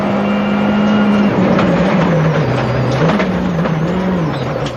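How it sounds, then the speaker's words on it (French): Peugeot 307 WRC rally car driven by Marcus Grönholm at Rally New Zealand 2004 roars steadily past at close range, engine note rising and falling through gear changes with loud, continuous revving. "Marcus Grönholm repart au volant d'une 307 à nouveau compétitive"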